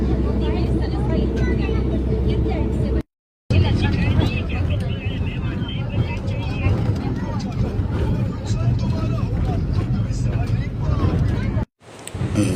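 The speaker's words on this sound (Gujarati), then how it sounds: "ધીમે ધીમે બસ થઈ ગઈ છે ચાલુ।" Interior of an Ekta Travels passenger bus pulling away on the road to Jamnagar, with a steady low engine rumble and road noise beneath chatter and background voices throughout.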